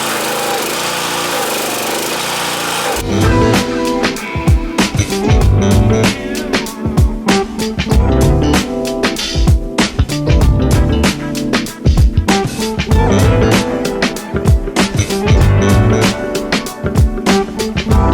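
A restored 1973 Triumph Spitfire 1500 engine with the choke on cranks after a quiet stretch, then catches and runs loud and close, with a rapid, uneven, rattling idle that fills the rest of the clip.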